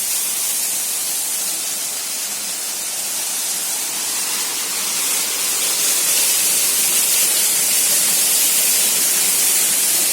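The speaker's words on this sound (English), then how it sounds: "One more marvel of the route: a beautiful waterfall en route." A waterfall beside a trekking route in the Ahupe Ghat to Siddhagad Fort range gives a steady, broad rushing roar that holds loud and even throughout, with no voices over it.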